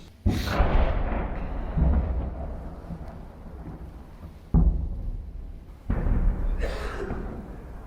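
Heavy booming blasts in war-torn Bakhmut, Ukraine, heard from a building's attic, a few deep rumbling impacts spaced seconds apart, each rolling out into a long fading roar.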